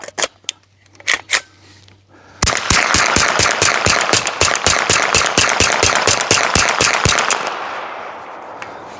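An MPA Defender pistol firing with a cheap no-name Chinese magazine: a few scattered loud shots, then a long rapid string of about twenty sharp, evenly spaced bangs close by, stopping abruptly with a short fading ring.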